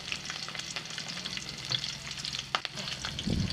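Onions and green chillies frying in oil in a pan for Kuwaiti majboos biryani, a steady sizzling hiss with a few louder crackles and spatters near the end, close and alone without talk.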